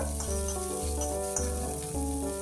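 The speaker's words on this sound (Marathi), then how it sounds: "कांदा आणि टोमॅटो कमी गॅसवर फ्राय करून घेऊ आपण" Onion and tomato fry in a little oil in a pan on low heat, giving a steady close sizzle that runs alone throughout, with faint stirring and a tonal hum in the background.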